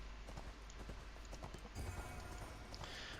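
Horse mount in the video game ArcheAge, a quick run of hoof clip-clops in a steady trotting rhythm, fairly close and moderately loud, with no talking.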